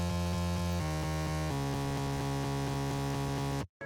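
A gritty, rough synth bass preset from the Spire synthesizer, bass 4 layer for a future house track, plays alone as a loud sustained pattern with a note change partway through, stopping abruptly at the end.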